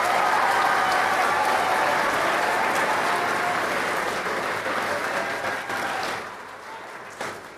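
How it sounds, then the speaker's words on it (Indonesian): An audience at a school arts performance and open house claps in a dense, steady burst of applause that holds for several seconds, then thins and tapers off toward the end. "Kita berikan tepuk tangan."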